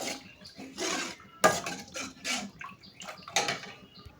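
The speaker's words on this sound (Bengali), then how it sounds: "দুধটা দিয়ে দিলাম, একটু নাড়াচাড়া করে নিব।" A spoon scrapes and clinks around a pan of semolina halwa just after milk is poured in, giving irregular metallic knocks and wet stirring swishes, close and moderately quiet.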